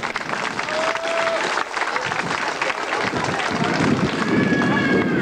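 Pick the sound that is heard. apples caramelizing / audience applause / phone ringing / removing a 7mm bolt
audience applause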